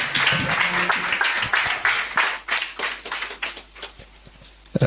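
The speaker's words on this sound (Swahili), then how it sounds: "Tupige makofi tunapopokea neno la Mungu." A church congregation claps together during a worship service, producing a dense run of rapid hand claps that thins into scattered, irregular claps toward the end, with a few voices mixed in.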